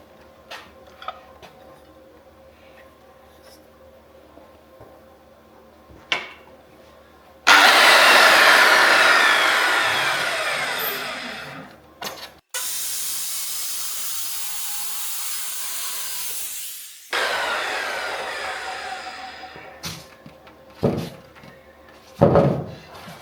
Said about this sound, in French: j'ai remonté la lame pour juste faire une rainure en fait, ou même deux